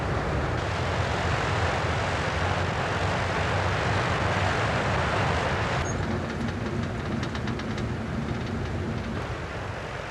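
B-29 bomber engines roar at maximum power, straining to break the frozen wheels free of mud and snow; a loud, dense, continuous drone with a slight shift in tone partway through.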